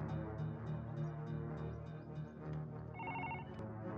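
A telephone rings steadily in a repeating electronic trill, fairly close, over a busy background of music with no talking.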